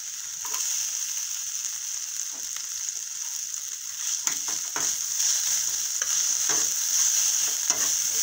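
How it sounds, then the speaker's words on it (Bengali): Chopped onions are stirred into frying garlic and ginger paste in a pan, giving a steady close sizzle broken by scraping strokes of the spoon throughout. "ভালো করে নেড়ে ফেলে নেব পেঁয়াজ কুচি দিয়ে দেবো"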